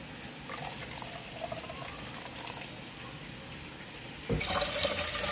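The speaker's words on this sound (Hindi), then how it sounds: "मलबल के कपड़े के साथ आप इसको छान लें।" Water pours and trickles steadily as curdled milk is strained through muslin cloth for homemade cheese, a soft continuous wet flow that grows louder near the end as tap water rushes in.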